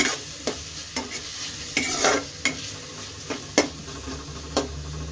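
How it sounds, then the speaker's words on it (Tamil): Tomatoes are stirred into sizzling oil in a pan while cooking chana masala, a low steady frying hiss broken by about eight sharp spoon scrapes and knocks against the pan at a regular rhythm. "தக்காளி போட்டு நல்லா ஒரு கிண்டு கிண்டி விடுங்க"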